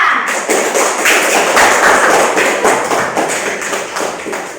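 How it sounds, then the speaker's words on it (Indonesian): Dense applause from a class of students during a teachers' training lesson, a steady wash of many hands clapping at close range that stays loud throughout and tapers slightly at the end, with a voice faintly underneath. "Sekali lagi tepuk tangan untuk kita semua"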